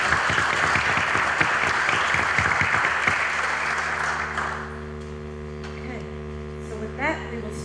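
Audience applause fills a board of education meeting room, a dense steady wash of clapping for about four seconds that fades out, leaving low mains hum and faint room noise.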